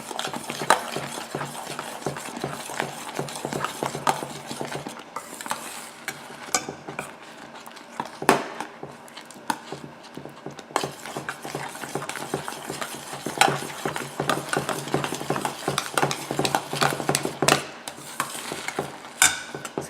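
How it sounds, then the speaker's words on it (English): Flaxseed mixture stirred by hand into a dough, a steady run of close, scraping and clicking utensil strokes against a bowl that continues without pause and with no voices. "Keep stirring it until it forms into a workable dough."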